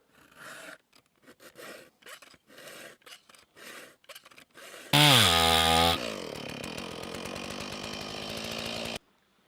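A saw cuts during axe making: a run of short, rhythmic rasping strokes, then a loud, steady buzzing tone that holds for several seconds before stopping abruptly.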